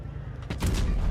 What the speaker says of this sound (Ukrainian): Він ще й фугасом стріляє.